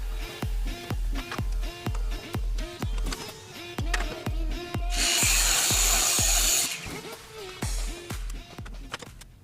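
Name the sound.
Einhell TE-SM 18/210 Li cordless miter saw cutting wood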